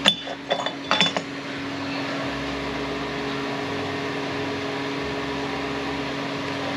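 Metal bearing and race parts from a TR60SN recase clink together in a few sharp bright taps at the start, then fall silent against a steady hum of background noise.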